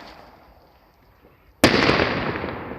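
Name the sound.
fireworks rocket exploding on New Year's Eve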